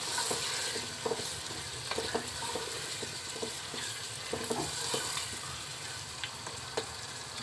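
Chopped turnip being stirred with fenugreek in a hot pan for sabzi, soft sizzling and frying under scattered spoon scrapes and light clinks, close and fairly quiet, with no talking.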